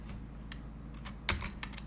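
A computer keyboard in a quiet room, a few light key taps followed by one firmer press of the enter key, close and faint.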